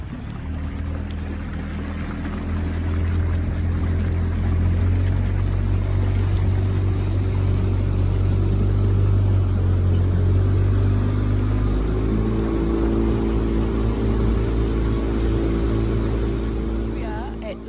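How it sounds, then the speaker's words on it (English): A small 15-horsepower outboard motorboat runs steadily at a close, loud level for the whole stretch, its low engine drone holding constant pitch with water and hull noise layered over it. "So we're heading over in the northerly direction in the boat. It's about 15 horsepower."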